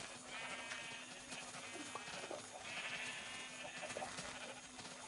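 Sheep bleating in the Minecraft video game, several short calls over a steady hum of game background noise, fairly faint.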